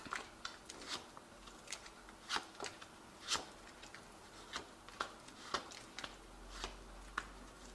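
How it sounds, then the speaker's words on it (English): Crisp papery tarot cards flick and riffle in irregular bursts as the deck is shuffled, close and fairly quiet, with no talking. "I have shuffled this deck"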